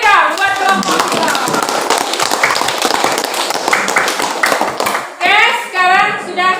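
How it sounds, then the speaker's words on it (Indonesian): A classroom group is applauded by students: a dense patter of hand clapping runs throughout, mixed with children's voices and a teacher talking over it. "Tepuk tangan lagi dong buat kelompok kita"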